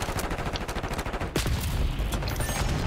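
Rapid automatic gunfire rattles in bursts during a Black Ops 6 multiplayer match, with close sharp reports repeating quickly before a louder blast and continuing shots.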